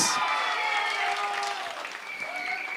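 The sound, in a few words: studio audience applause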